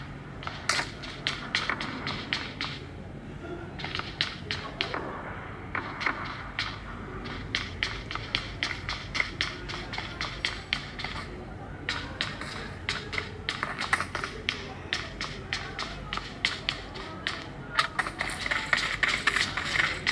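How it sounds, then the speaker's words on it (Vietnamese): Footsteps in the game PUBG patter in rapid irregular bursts of crisp taps, running on and off for twenty seconds at moderate loudness over a steady background. "Có tiếng bước chân hay sao nhỉ?"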